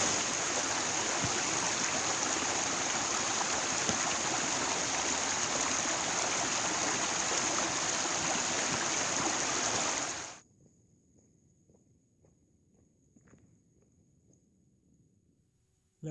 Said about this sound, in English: it means crossing the river here, so it's time for a bit of balancing